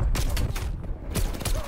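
A shotgun fires in Call of Duty on the Nuketown map: several heavy, booming blasts at irregular intervals over a dense, rumbling game background, with creaking, mechanical handling noises between shots.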